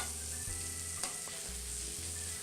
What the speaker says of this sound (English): Now we're going to saute these apples for about a minute or two to give them some nice color and some burn on the edge.